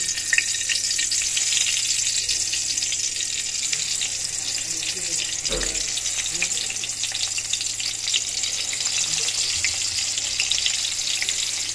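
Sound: frying eggplant slices

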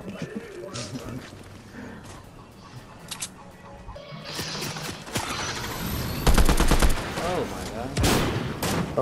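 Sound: gunfire at the player in a video game

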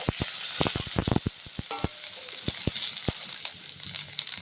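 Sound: stirring taro and potatoes frying in a pan

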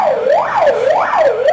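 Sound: fire alarm siren

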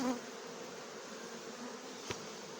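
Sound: bees buzzing at the hive

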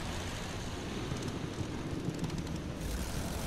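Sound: fighter plane engine in the video game Battlefield 1

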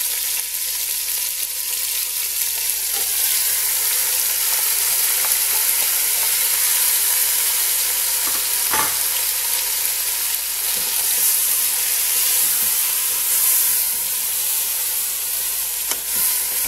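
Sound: chicken pieces frying in oil in a pot

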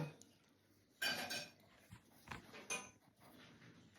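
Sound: dishes being washed

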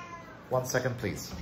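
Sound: cat meowing

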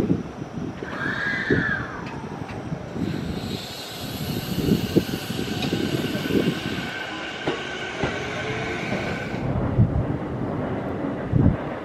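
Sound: train running, bound for Aboshi

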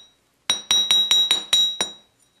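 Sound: hammering texture into wire

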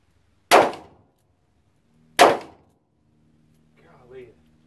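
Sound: revolver gunshot, Ruger LCR or Taurus 85 Ultra-Lite

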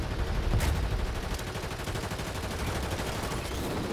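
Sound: gunfire in a video game

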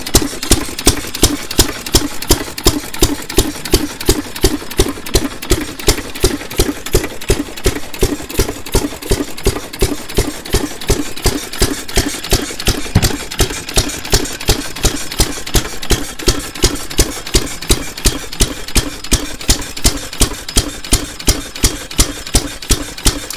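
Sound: 1914 Fairbanks H type open crank engine running

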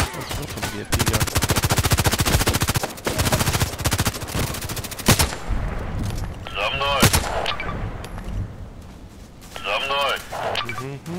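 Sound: gunfire in video game Contract Wars

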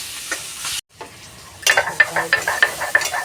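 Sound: prawns frying in a wok

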